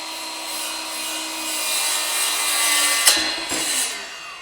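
A saw cutting through wooden door trim, a steady close rasping cut that builds and ends with a couple of sharper scraping strokes, with no talking.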